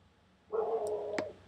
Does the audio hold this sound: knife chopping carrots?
no